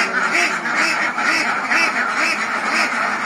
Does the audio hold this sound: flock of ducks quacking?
yes